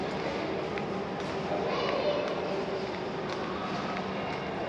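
A metro train rumbles steadily at a metro station, a continuous near roar of rolling wheels and motors with faint station noise and brief squeals over it.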